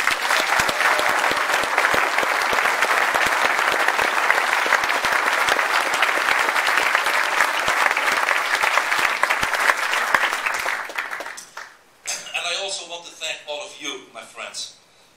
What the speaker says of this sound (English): please join me for a well-deserved applause for Debbie